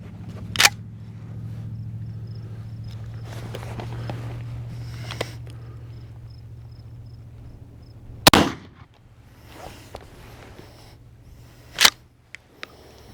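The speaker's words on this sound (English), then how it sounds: "My first shot will be this heavy shot, heavy duty, number 4 buckshot." A shotgun loaded with heavy-duty number 4 buckshot fires at a torso target 15 yards away: a few sharp, loud cracks spaced several seconds apart, the biggest near the middle, over a faint low hum between shots.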